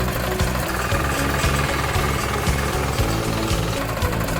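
A 4.0kW diesel micro tiller engine rated at 3600 RPM runs loud and close, its rapid knocking thud pulsing steadily over a dense mechanical drone.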